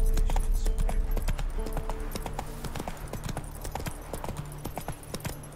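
Hooves of Roach, a horse in the video game The Witcher 3, clip-clop in a steady, brisk rhythm of sharp, close knocks that run throughout over a low background rumble.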